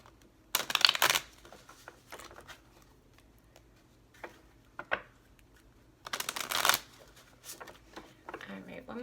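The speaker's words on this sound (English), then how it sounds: "one more shuffle" Deck of tarot cards being shuffled, two loud close riffles with softer card rustles and taps between them, amid quiet pauses.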